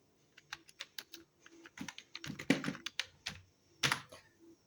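Fingers type a message on a computer keyboard in irregular bursts of light, close key clicks with brief pauses and a few heavier strokes, quiet and alone without talk.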